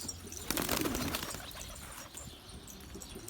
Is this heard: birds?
yes